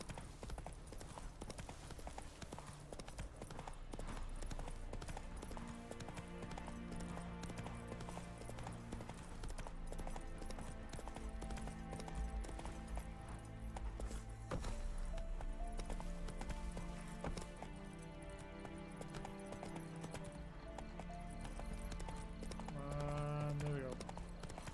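Hooves clip-clop steadily as a horse is ridden in Witcher 3, a continuous galloping rhythm under layered game music and ambience, with a brief whinny-like sound near the end.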